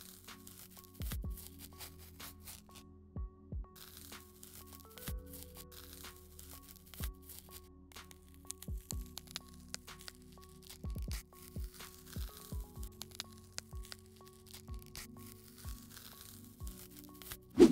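Masking tape slowly peeled off the label of a Citadel paint pot, quiet close-up tearing and crinkling in scattered short bursts with brief pauses between.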